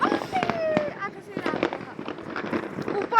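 Firecrackers bursting close overhead, a rapid cluster of loud sharp cracks and pops with whistling streaks, while people exclaim and talk excitedly over them.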